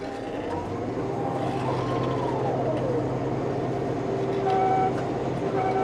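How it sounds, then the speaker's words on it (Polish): A tractor's steady high warning whistle, triggered by steering too far, rises and falls in pitch over a constant engine drone, then settles into a level beep near the end. "Jak się skręci za bardzo, tak gwizdzę."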